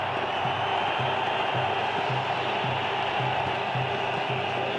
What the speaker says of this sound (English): That shot brought the crowd to their feet.